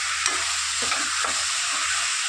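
Onions, tomato and other ingredients frying in a pan, a continuous loud sizzle with a few soft stirring knocks of a utensil, no talking.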